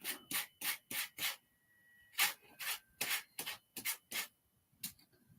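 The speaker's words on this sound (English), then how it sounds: "It doesn't have to be a sander like this." A 4x4 wooden pumpkin covered with decorative napkin is lightly sanded to remove the excess. Short, soft scratchy rubbing strokes repeat in a quick, fairly even rhythm, quiet and close, with a brief pause partway through.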